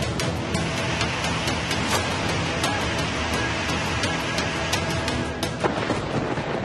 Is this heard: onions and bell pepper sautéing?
no